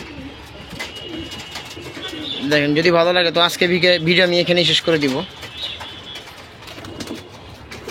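Red and silver pigeons coo in the background while someone talks over them, their low burbling steady beneath a louder stretch of speech near the middle.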